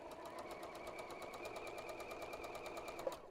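Sewing machine chain piecing quilt blocks for a Cathedral Window pattern, a rapid even needle rhythm running steadily, quiet and close.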